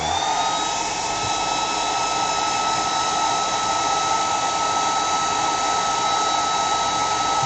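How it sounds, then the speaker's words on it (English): A hair dryer runs with a steady, loud whirring hum and airy rush, unbroken throughout, used to dry airbrushed metallic paint. "You can use a hairdryer if you want."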